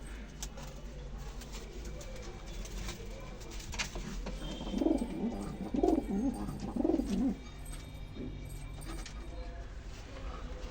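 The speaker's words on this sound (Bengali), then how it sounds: "এখানে একটা সিঙ্গেল পায়রা রয়েছে।" Pigeons coo in a loft, a short run of soft, low, throaty coos in the middle of the stretch over a constant background hum.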